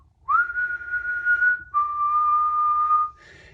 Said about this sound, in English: But he hears a whistle. The whistle.